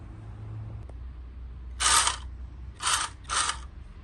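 A late-1950s Hong Kong-made remote control toy Land Rover Series 1 with wire-cable steering gives three separate short bursts of whirring, ratcheting gear mechanism, close and fairly loud, with quiet gaps between them.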